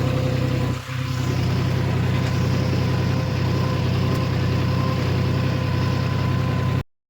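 A tractor engine runs outdoors on a farm field with a steady, loud low rumble and drone throughout, dipping briefly once before cutting off at the end.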